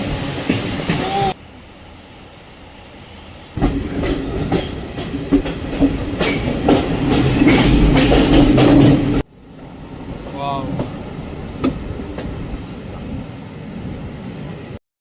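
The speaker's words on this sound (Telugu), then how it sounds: "18048 వాస్కోడి గామా నుంచి షాలిమార్ వెళ్ళే అమరావతి ఎక్స్ప్రెస్ అనమాట ఇది." The Amaravati Express, train 18048 from Vasco da Gama to Shalimar, rolls toward Dudhsagar falls on the Madgaon to Londa line. Its loud rumble and rhythmic clatter of wheels surge and drop in abrupt sections with brief quieter gaps.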